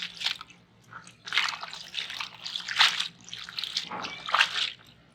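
Spinach, fenugreek and bathua greens being washed by hand in a basin of water, with repeated bursts of splashing and sloshing separated by short quieter pauses, close and fairly loud.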